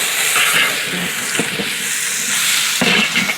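Ginger garlic paste fries in a pan for village-style biryani, producing a loud, close, continuous hissing sizzle. A couple of soft knocks, likely from stirring, rise above the steady fry.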